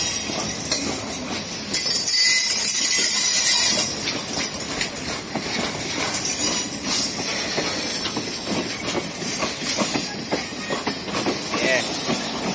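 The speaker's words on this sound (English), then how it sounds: "Well, can't say we never saw one train in Jamaica yet." A train rolls past in Jamaica, its wheels clattering and clinking steadily over the rails with faint metallic squeals, loud and continuous throughout, while voices mingle with the noise.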